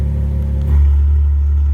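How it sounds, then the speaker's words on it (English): A Ferrari 812 Superfast with a straight-pipe Capristo exhaust idles with a deep, loud rumble that swells into a heavier, steady drone partway through, with no talk over it. "There is pretty much nothing between the engine and the exhaust."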